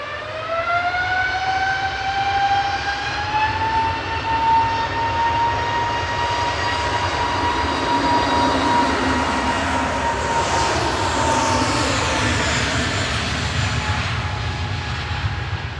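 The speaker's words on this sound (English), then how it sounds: "A couple of Jet2's A321 Neos departing there" A couple of Jet2 Airbus A321neo jets departing Manchester Airport: loud, sustained engine roar with a rising whine that settles into a steady tone, near and continuous, with no talk.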